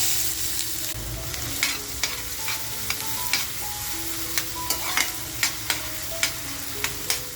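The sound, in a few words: chopped onion frying in hot oil in a pan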